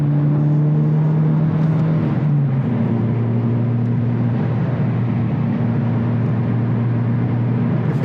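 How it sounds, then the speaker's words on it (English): A Honda Civic Type R FL5 downshifts and accelerates into a turn, its engine note holding steady then dropping and rising again as the gear changes, loud and continuous from inside the car. "I look forward to downshifting and accelerating into a turn."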